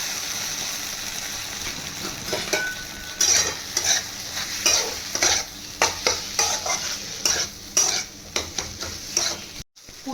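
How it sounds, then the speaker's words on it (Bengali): Crumbled egg filling with tomato sauce for egg bread patties, frying in a pan and stirred with a spatula: a continuous sizzle cut by repeated rhythmic scraping strokes, close and fairly loud, with no talking. "দিয়ে ভালো করে ঝুরু ঝুরু করে ভেজে নেব।"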